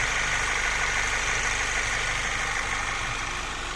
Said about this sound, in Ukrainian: двигун запускається з півоборта, ніяких помилок у нас немає. Двигун працює